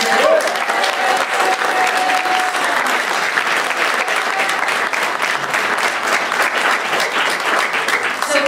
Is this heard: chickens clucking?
no